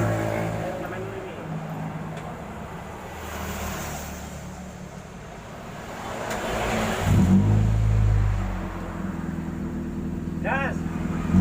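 Toyota Soluna GLI fitted with a JS Racing aftermarket exhaust: the engine idles, then revs up to a rising, throaty roar before settling back, with people talking nearby.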